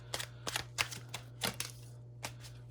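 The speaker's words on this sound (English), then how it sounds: "One more quick shuffle." Tarot cards shuffled quickly, a handful of crisp riffling bursts spaced unevenly over a steady low hum, close and fairly quiet.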